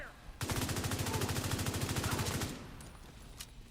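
Automatic gunfire in the video game The Division 2, a rapid burst of about two seconds of evenly spaced shots, loud and close, followed by quieter game sounds.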